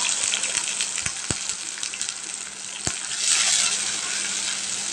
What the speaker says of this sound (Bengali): আমি একটু পেঁয়াজ বাটা দিব।